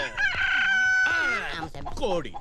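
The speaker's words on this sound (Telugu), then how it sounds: "కోడి కూసిందెక్కడ? కోడి కూసిందెక్కడ?" A rooster crows once, loud and close, its long call trailing off and followed by fainter clucking and voices.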